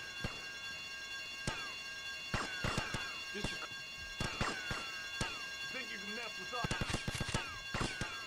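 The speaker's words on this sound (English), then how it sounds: "Nou, het alarm gaat af." A continuous electronic alarm rings steadily throughout a GTA Vice City Definitive Edition mission, with sharp clicks, thuds and footstep-like hits scattered over it and a voice speaking at times.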